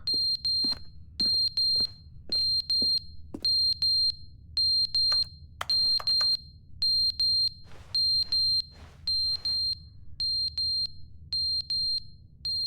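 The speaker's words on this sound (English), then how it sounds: "Fire alarm?" Fire alarm in The Stanley Parable Ultra Deluxe beeping in repeated bursts of sharp, high electronic chirps, grouped in threes and fours with short gaps, over a low steady hum, fairly loud and close with no talking.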